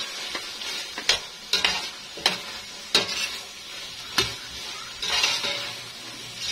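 Green peas and raisins sautéing in a pan for a home-cooked birthday meal: a steady sizzle with repeated sharp clinks and scrapes of a spoon stirring against the metal, no voices.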